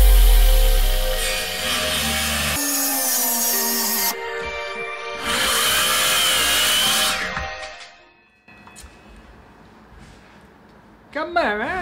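A battery-powered saw with a wood-cutting blade runs in long buzzing bursts that shift pitch as it bites into wood, with quieter pauses between cuts.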